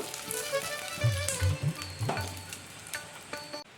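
Ghee sizzling in a hot nonstick kadai while being brushed around the pan, a soft steady crackle with a few clinks of utensils against the metal, close by and without talk.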